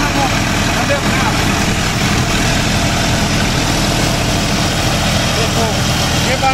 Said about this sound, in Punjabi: ਦੇਖੋ ਇਹ ਬੰਦ ਹੋਣਾ ਹੁੰਦਾ ਟੈਕਟਰ ਬੰਦ ਹੋ ਜਾਂਦਾ